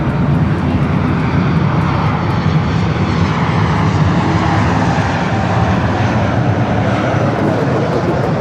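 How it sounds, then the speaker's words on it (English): Loud, close engine roar of an American Airlines Boeing 737 MAX 8 jet on the north runways at Los Angeles LAX, a constant heavy rumble with no voices. "It's a 737 and MAX 8 with American Airlines."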